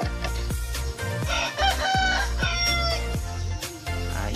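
Breeder rooster crowing repeatedly close by, loud harmonic calls rising and falling several times in quick succession with no one talking.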